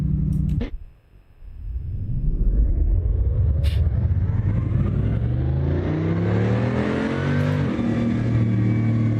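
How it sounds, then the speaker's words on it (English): A car engine in the racing game Assetto Corsa roars and climbs in pitch as it accelerates hard, a loud, steady exhaust drone with rising harmonics after a brief dip near the start. "listen to the exhaust"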